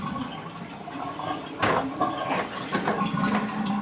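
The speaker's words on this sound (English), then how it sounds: "I pour it slowly so I don't lose very much of my sand." Water slowly poured out of a 5-gallon betta aquarium over sand, a close trickling and splashing stream with gurgles and small drips, a stronger gush midway.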